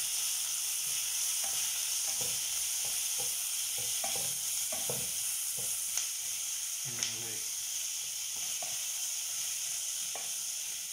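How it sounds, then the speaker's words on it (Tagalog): Tomatoes sizzle and hiss steadily in a hot pan while a utensil stirs them with intermittent scraping clicks, heard close and continuous throughout. "Lagyan natin yung kamatis."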